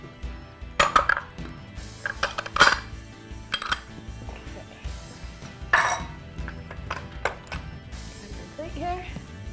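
Dishes, pots and cutlery clatter and clink in irregular bursts during kitchen cleanup after cooking, with a few louder crashes standing out against quieter handling noise and no talking.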